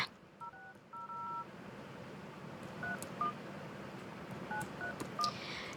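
Phone keypad tones sound as a number is entered on a mobile phone's dial pad, a series of short beeps at irregular intervals over faint background hiss.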